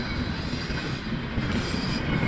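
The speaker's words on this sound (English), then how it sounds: "The last train here in daylight hours here on the 4th of April would be the some sort of NS intermodal led by an SD70 ACE" Norfolk Southern intermodal freight train led by SD70ACE locomotives rolling past in Fostoria, Ohio, a steady dense rumble of railcar wheels on track with a high metallic squeal over it.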